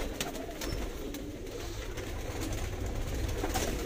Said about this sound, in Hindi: ये हैं जी अमार भाई के 35 वाले कबूतर